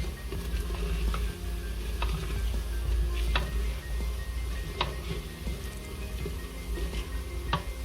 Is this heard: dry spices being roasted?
yes